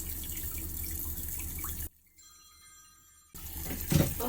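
Steady rush of water filling an RV black tank during a flush, a continuous hiss that drops away midway before the flow resumes and swells again near the end.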